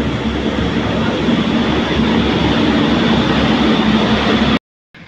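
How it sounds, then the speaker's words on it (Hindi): A passing train near Siddharth Nagar gives a loud, steady rumble with broadband rushing noise that holds for over four seconds and then cuts off abruptly. "इधर देख सकते हैं एक ट्रेन आ रही है"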